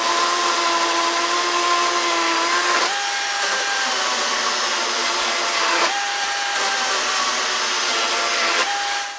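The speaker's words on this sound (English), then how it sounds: "As you can see, this small timber doesn't really impress the powerful chainsaw." A DeWalt 54/60V cordless chainsaw, model DCM575N, cuts through a small 80 by 100 millimeter timber in a loud continuous whine, its pitch dropping sharply with each of several successive cuts.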